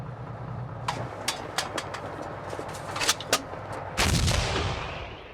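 Heavy gunfire from a T-34 tank's 76mm main gun: several sharp reports in close succession, then a louder, longer blast with rumbling decay, over steady background noise.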